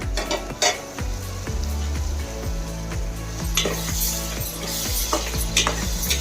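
Brinjal and gongura curry stirred in a pan with tamarind, giving a close, rhythmic series of spoon scrapes and knocks over a soft background sizzle with no voices.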